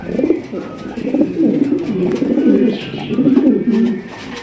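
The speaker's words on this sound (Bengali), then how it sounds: "এখানে রয়েছে খুবই সুন্দর একদম ব্ল্যাক কালারের জেড ব্ল্যাক এক্সিবিশন কবুতর মাশাআল্লাহ" Jet black exhibition pigeons coo in deep, rolling repeated phrases, close and prominent, with faint background noise between calls.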